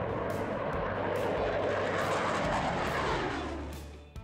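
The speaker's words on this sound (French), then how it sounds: "l'armée de l'air et de l'espace française a assuré la démonstration en vol du Rafale" A Dassault Rafale fighter jet flies a French Air and Space Force display at the Paris-Le Bourget air show, a loud continuous roaring rumble that holds steady and fades slightly at the end.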